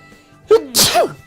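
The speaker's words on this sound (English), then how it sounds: "Hold on, need to sneeze." A single person's sneeze bursts out close and loud, a sharp intake then an explosive release, with a faint breathy voice around it in an otherwise quiet room.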